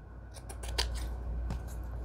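Scissors trim paper for a junk journal, a quick series of close, crisp snipping cuts followed by one more snip after a short pause.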